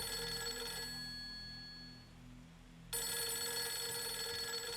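A telephone rings insistently in the horror game Fatal Frame III: The Tormented, a steady electronic bell tone that pauses briefly and then resumes at full volume, with no voices over it.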